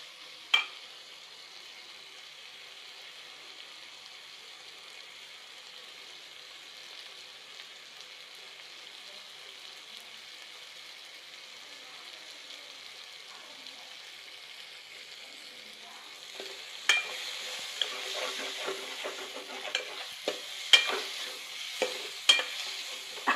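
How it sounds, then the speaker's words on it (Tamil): Spices with turmeric sautéing in a pan for a dried fish curry, a faint steady sizzle that grows louder near the end with sharp scraping stirs against the pan. "மிக்ஸ் பண்ணிவிட்டு ஒரு 1 மினிட்டுக்கு அப்படியே வதக்குங்க."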